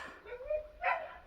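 A single dog gives a short yip and whimpering bark, fairly faint and alone, as if from behind a house in a rural yard.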